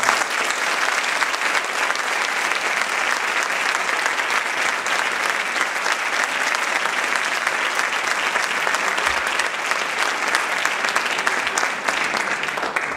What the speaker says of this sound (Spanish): este aplauso que el público os va a dar